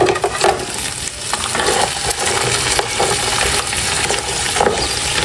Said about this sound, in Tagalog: Diyan po at nagigisa na po ako ng ricado